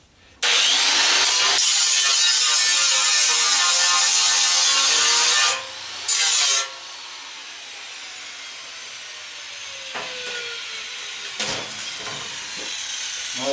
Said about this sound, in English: Got this little grinder, it's got a grinding disc on it